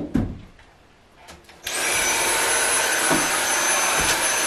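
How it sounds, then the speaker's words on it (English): Vacuum cleaner sucking dust out of bedroom drawers, switching on after a few quiet knocks and then running as a loud, steady whine close by. "one of the things that I'm doing is vacuuming a little bit of like dust out of the drawers"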